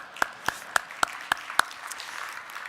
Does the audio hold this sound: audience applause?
yes